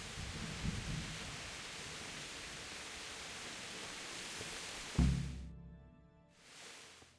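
Steady rain and rumbling thunder from the medieval video game Kingdom Come Deliverance form a dense, continuous wash that cuts off sharply after a low thump, then a brief return of the noise before falling quiet.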